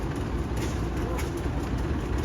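A Rumley Model X antique steam tractor runs at an outdoor show, giving a steady low mechanical rumble with a faint high whine, continuous and moderately loud in the open air.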